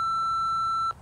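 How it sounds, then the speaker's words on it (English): A steady electronic censor beep, a single pure tone held loud and unbroken for nearly a second before cutting off abruptly. "I'll put a little beep there."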